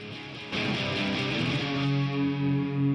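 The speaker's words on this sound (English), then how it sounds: "You hear that distortion that it's adding to the guitar there?" An electric guitar rings out with a gritty, distorted tone, chords swelling and sustaining loudly over a few seconds.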